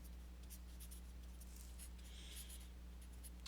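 Chalk or marker strokes on a board during a calculus lecture on the alternating series test, faint scratchy bursts over a steady electrical hum, with no talking.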